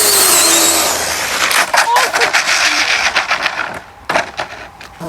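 An FTX Banzai RC car at full speed whines loudly with a high-pitched motor and tyre noise, then breaks into bumpy, choppy bursts as it fades and surges again; a voice talks over it.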